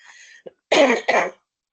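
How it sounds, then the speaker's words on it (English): Two close, forceful coughs with some throat clearing, loud and near, after a faint murmur of background sound. "I'm just going to have to cough"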